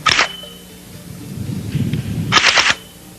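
Two sharp, loud gunshots from a firearm fitted with a homemade PVC pipe suppressor built from a 3 1/2 inch plumbing fixture body with a bicycle clamp mount, one at the start and a second near the end, with a low rumble between.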